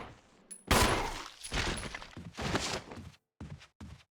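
Rapid bursts of video game gunfire crackle in loud, dense clusters separated by brief gaps, close and unaccompanied by talk.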